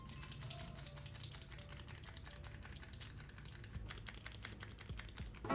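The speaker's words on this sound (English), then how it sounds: "It's a little like clicky pen." Soft, rapid clicks from a concealer click pen repeat quietly in close succession, a faint, dry clicking close to the listener.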